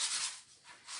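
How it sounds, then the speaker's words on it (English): Wooden lemon and lime shapes lightly sanded by hand, a steady soft scratchy rubbing that swells and eases in alternating strokes, close and fairly quiet, with no voices. "I am going to lightly sand each one of these"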